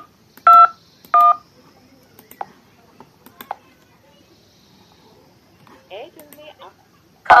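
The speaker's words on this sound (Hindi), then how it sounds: "हम ट्राई करेंगे एक नंबर डायल करके" A phone's dialer keypad gives a few separate electronic beeps while a number is dialed, each tone short and clear in a quiet room. Faint clicks and a brief stretch of soft talk follow.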